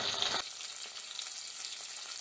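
Fennel seeds hit hot oil with glossy shallots in a pan for a village-style boti curry. A sharp burst of sizzling is followed by a steady, close crackle of frying.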